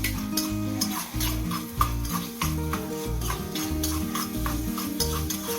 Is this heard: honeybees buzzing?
no